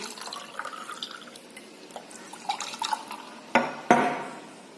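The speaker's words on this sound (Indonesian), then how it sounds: "tuang air panas ke kedua gelas ini" Hot water is poured into two glasses, giving soft trickling and dripping, then two sharper splashing pours near the end, close and fairly quiet with no talking.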